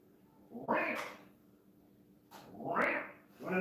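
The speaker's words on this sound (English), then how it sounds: "You acting all crazy for a crazy cat." A cat gives two loud, drawn-out meows or yowls, close by, separated by a short quiet gap, with a third call starting at the end.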